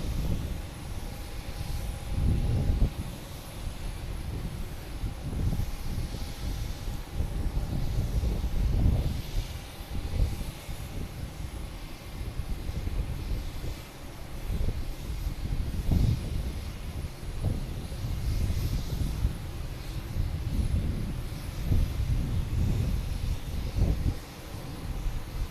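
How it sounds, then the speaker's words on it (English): A Delta Airbus A321neo arriving at Boston Logan Airport from Salt Lake City, heard as a steady, fairly loud low engine roar mixed with wind buffeting on the microphone, with no one talking throughout. "Next to arrive, we have a Delta coming in from Salt Lake City, an A321 Neo."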